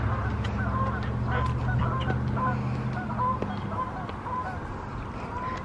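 Big wild geese gather around a parked car at a spring event in Carlisle and honk in short, repeated calls from a few birds at moderate distance over steady outdoor background noise.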